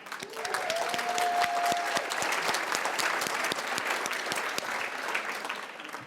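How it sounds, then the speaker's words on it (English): Applause from an audience at a Forever business academy event: continuous, crisp clapping from a large crowd, sustained and fairly even throughout, with a faint tone briefly audible early on. "So I want to offer a huge round of applause to Ange, to Bill, to Aidan, and everybody at"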